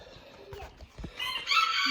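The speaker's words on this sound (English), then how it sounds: "There's some more egg laying chickens." Egg-laying chickens on a homestead farm cluck in short bursts, with a rooster-like crowing call rising near the end, moderately close and otherwise alone.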